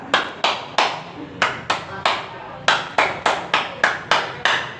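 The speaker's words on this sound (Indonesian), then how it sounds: "Bisa anak-anak tepuk pramuka" Children perform the scout clap (tepuk pramuka) at an elementary school scouting orientation, sharp group claps in a rhythmic patterned sequence of short bursts, loud and close, with no talking.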